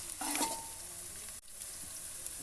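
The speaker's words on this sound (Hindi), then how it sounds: "5 से 6 मिनट तक प्याज और सब्ज़ मिर्च की अच्छी तरीके के साथ भुनाई करनी है" Onions and green chillies fry in a pan, giving a soft, steady sizzle with a brief burst of stirring near the start and a short dip midway.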